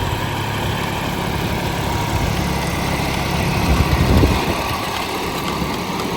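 A John Deere 5210 tractor drives a rotavator with a steady, loud engine drone and churning mechanical rumble, swelling slightly midway under load.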